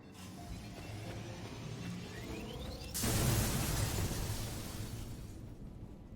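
A video game explosion bursts in suddenly partway through, loud and broad, then rumbles and slowly fades over several seconds after a quieter stretch of background game noise.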